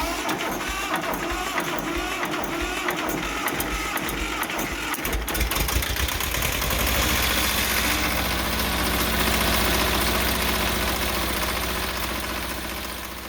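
A diesel generator starting after its glow plugs preheat: rapid cranking clatter for several seconds, then the engine catches and settles into a loud, steady, close running drone.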